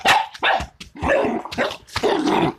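A dog barks in a series of loud, close yaps and woofs with short gaps between them, rough and growly at times.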